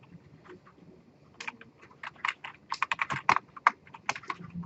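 Rapid keystrokes on a computer keyboard during a programming lecture, starting sparse and quiet, then a dense run of sharp, close clicks in an irregular rhythm.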